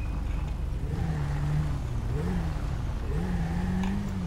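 A motorcycle engine in Grand Theft Auto V roleplay, a close droning motor whose pitch rises and falls in repeated revs, with no talking.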